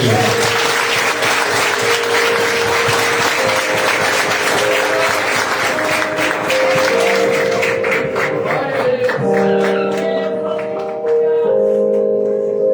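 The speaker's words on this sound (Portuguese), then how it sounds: "Uma salva de palmas ao Senhor." Long, loud congregational applause at a Sunday worship service in the ADAF Santa Isabel church, dense and steady throughout, with sustained instrumental tones and some voices under it.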